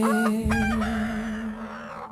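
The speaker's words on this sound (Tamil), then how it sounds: "ரெண்டு தரம் சேவல் கூவும் முன்னே" A rooster crows in a short burst of several rising calls over a sustained, steady musical drone, then the sound trails away.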